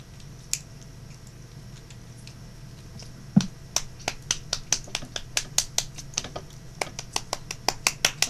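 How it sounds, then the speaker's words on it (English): Hands clap in a quick, steady series of sharp, close smacks, beginning with a single clap and then settling into a regular rhythm of about two per second. No one talks. "Don't worry, I'm just clapping"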